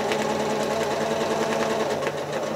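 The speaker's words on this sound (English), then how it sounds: "I'm just very carefully pressing down on my foot pedal just a little bit more as I stitch out" A sewing machine runs continuously and steadily close by, travel-stitching stems on a quilt with the foot pedal held down, its needle chatter even and unbroken and no talking over it.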